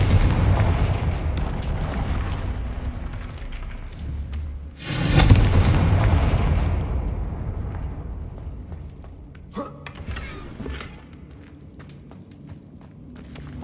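A Confringo fire spell explodes in Hogwarts Legacy on PS5: one loud booming blast that rumbles and fades over several seconds, followed by a couple of lighter magical impacts amid steady game ambience.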